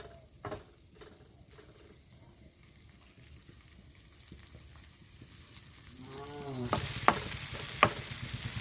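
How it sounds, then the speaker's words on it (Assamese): Chilli chicken fries in a pan. Faint stirring and scraping give way to a louder, rising sizzle toward the end, with a few sharp clinks. "এতিয়া আমি আকৌ এবাৰ ভালদৰে ভাজি ল'ম দুটাতে"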